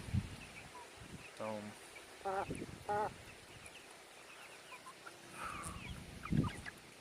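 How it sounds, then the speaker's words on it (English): Backyard chickens cluck on a warm, 75-degree day outdoors: a few short, separate bursts of clucking, some close and some fainter, over a steady hiss of outdoor background. "Chickens are having a blast."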